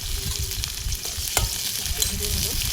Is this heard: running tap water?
no